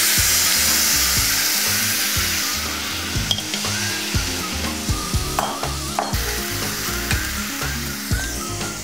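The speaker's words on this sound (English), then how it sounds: "Put the ribs into a pan and stir fry" Beef ribs stir-fried in a pan for Korean stone bowl rice, with a loud continuous sizzle and a steady run of scraping, clattering stirs close by.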